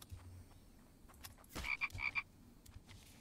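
A frog in the survival game The Infected croaks in a quick burst of three or four short calls, fairly faint against a low ambient outdoor background with no talking.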